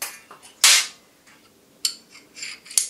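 Metallic clicks and scrapes come from a Smith & Wesson 1911 Pro Series pistol as its recoil spring and guide rod are removed, a few sharp close snaps separated by quiet gaps.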